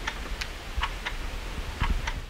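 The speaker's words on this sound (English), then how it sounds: "Explosions in the distance and a ticking clock" A clock ticks in an underground shelter in Avdiivka, Ukraine, its sharp, faint ticks coming at irregular intervals over low background rumble and hiss.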